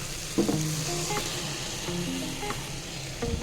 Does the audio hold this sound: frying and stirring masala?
yes